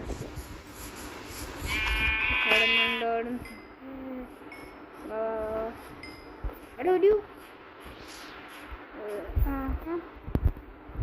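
Several Minecraft sheep bleat in short bursts, some high and some lower, with voices talking over them and scattered game noises.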